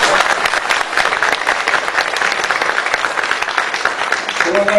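An audience at a sports veterans' gathering in a hall claps loudly and continuously, dense steady applause with no pauses.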